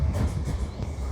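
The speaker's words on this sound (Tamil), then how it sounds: "ட்ரெயின் நின்றுச்சுங்க." A passenger train on the Vellore to Chennai route rumbling at a station, a close, loud low rolling clatter of the rail cars over one short stretch.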